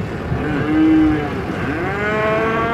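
Cattle mooing at a farm feeding area, several long, loud, close calls that overlap and rise and fall in pitch, with no talk.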